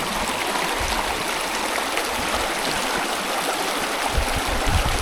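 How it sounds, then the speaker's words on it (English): Summit Creek, a small mountain stream by a road bridge in Idaho's Boulder Mountains, rushes continuously at close range, a dense, even roar of flowing water with no voices. "this is Summit Creek, right across the road from the Park Creek campground."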